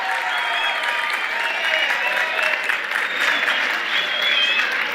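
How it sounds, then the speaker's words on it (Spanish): An audience at an Impactup 2026 talk bursts into sustained, even applause welcoming a speaker to the stage, a dense steady clapping wash with a faint crowd murmur and no pauses. "Un fuerte aplauso para recibir a Alan."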